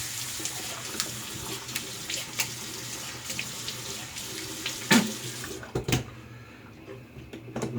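Tap water runs into a sink for rinsing during a wet shave, a steady close splashing flow with small knocks and clatters, then the stream cuts off near the end.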